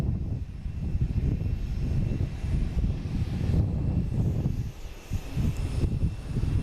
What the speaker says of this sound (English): Next coming in is United Airlines from Newark at A319